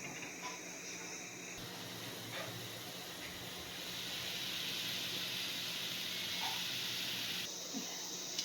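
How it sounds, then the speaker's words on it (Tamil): Steady broadband hiss and bubbling from egg soup simmering in a pot on a stove, growing slightly louder partway through, with no talking. "நல்லா கொதிச்சிடுச்சு இப்போ அடுப்பை ஆஃப் பண்ணிடலாம்"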